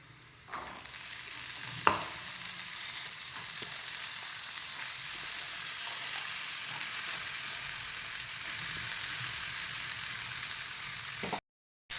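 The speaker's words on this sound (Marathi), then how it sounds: "आता त्याला व्यवस्थित हलवून घ्या आणि छान अशा फ्राय होऊन द्यायचा तेलामध्ये तेलामध्ये शिजवून द्यायचा" Green beans and chili fry in oil with a steady, even sizzle, broken by a couple of sharp spatula clanks and stirring scrapes early on. The sizzle stops briefly near the end, and no one speaks.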